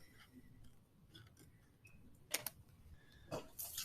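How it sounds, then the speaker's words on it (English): Scissors cut along a line in paper, making a series of sharp snips and crisp clicks at irregular intervals, close and fairly quiet. "So I get my scissors out and cut along said line."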